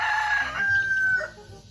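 A Rhode Island Red rooster crows once, close and loud, a drawn-out strained call lasting just over a second that tails off into quieter farmyard sound.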